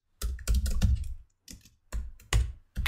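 Bursts of rapid clicking keystrokes on a computer keyboard while React Native code is typed, coming in several uneven runs separated by short pauses, close and fairly loud with no talking.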